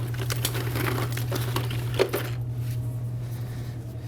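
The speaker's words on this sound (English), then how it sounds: "I'm going to put electrical tape on them." Electrical tape is pulled and wrapped around cut wire ends, giving scattered crinkly rips and crackles for about two seconds over a steady low hum, then only the hum remains.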